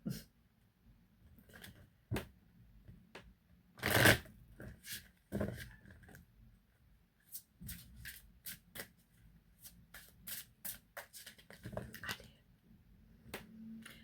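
A deck of cards being shuffled by hand, sparse riffles and soft clacks spread over a quiet stretch, with one louder burst of flicking cards near the middle.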